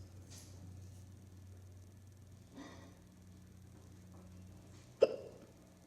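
One abrupt hiccup, close and distinct, near the end. Before it there is a faint breath and soft rustling over low background hum.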